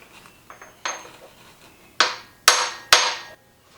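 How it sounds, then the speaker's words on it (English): A large deep well socket taps a timing gear onto a Jeep 4.0L engine: a few light taps, then three loud, sharp metallic strikes ringing close and evenly spaced. "It looks like we're going to need to tap that on a little bit. So I'm going to use a large deep well socket to do that."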